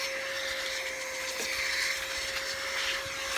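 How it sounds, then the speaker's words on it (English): A handheld blower clearing sawdust from a wooden circle-cutting jig in a workshop, a steady high whine with a constant tone, close and continuous. "I got my blower here to blow everything out"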